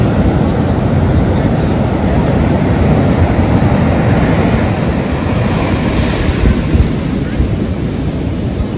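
Steady roar of ocean surf late at night as the tide ebbs, with heavy wind buffeting the microphone, continuous and loud throughout.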